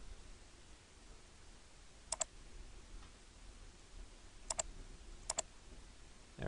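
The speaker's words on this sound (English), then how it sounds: "I have to click on this first" A computer mouse clicks in a quiet room during AutoCAD-to-Illustrator work: a double click, then a pause, then two quick double clicks, crisp and close over a faint hum.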